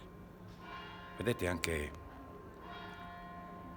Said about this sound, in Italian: questo rindondio delle campane proprio in questo momento